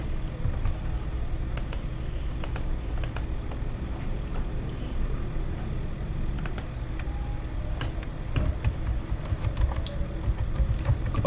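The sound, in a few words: typing on a computer keyboard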